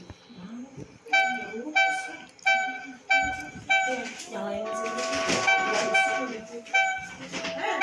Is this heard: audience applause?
no